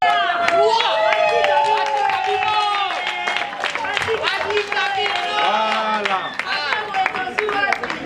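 Guests at a religious wedding ceremony clap and cheer in a lively crowd, with loud voices and singing-like calls mixed over the clapping throughout.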